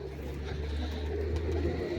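Pigeons coo in a loft or pigeon coop, low soft calls repeating steadily over a constant background hum, fairly close.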